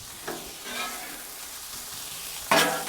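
Jalapenos sizzling on a Blackstone griddle, a steady quiet frying hiss broken by a few louder scraping, stirring bursts, the sharpest one near the end.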